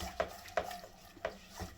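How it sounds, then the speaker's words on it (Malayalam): A spoon stirring jaggery and water in a pan on low flame, four soft clinking scrapes at an uneven pace, close and quiet, with no talking. "എന്നിട്ട് നല്ലതുപോലെ ഒന്ന് ഇളക്കി കൊടുക്കാം കേട്ടോ."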